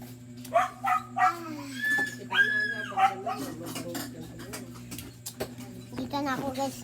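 Several dogs give short, high whimpers and yips in bursts, close by, over a steady low hum, with a person talking at moments in between.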